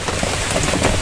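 Rain pours steadily at a fishing spot by a bridge, a loud, dense hiss of drops striking surfaces with no break during the short stretch.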